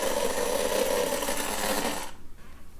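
A Minnie Mouse toy vacuum cleaner runs with a close, buzzing motor whir that holds steady for about two seconds, then cuts off into quiet.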